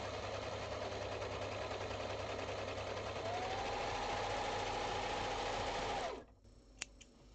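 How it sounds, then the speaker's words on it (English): An overlocker serges the bottom hem of small doll leggings with a steady, even whir close by for about six seconds before it stops, followed by a couple of light clicks. "Now I will serge the bottom of the leggings."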